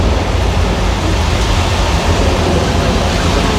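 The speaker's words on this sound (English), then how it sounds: "That is a Hollywood-style thunderstorm." Staged Hollywood-style thunderstorm at Universal Studios, with sprinkler rain pouring in a dense, loud, steady hiss and a low rumbling underneath, continuous throughout without any talking.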